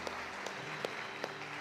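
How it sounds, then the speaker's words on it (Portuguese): Church congregation applauding during a service, a short, even wash of crowd clapping with a few louder individual claps standing out at regular moments; moderately loud and roomy, no speech over it. "Vamos aplaudir o Senhor pela vida dela"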